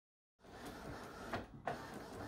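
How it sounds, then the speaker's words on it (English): An inkjet printer running a sublimation print for a mug whirs up after a moment of silence, its mechanism humming steadily with a couple of sharp clicks, close and alone. "so we'll go back to the printer."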